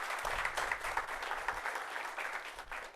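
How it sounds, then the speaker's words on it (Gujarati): An audience at a business event in Bharuch gives sustained, even applause to welcome a successful businessman from Ankleshwar, a steady wash of many hands clapping at once. "જોરદાર તાળીઓથી એમને વધાવીએ"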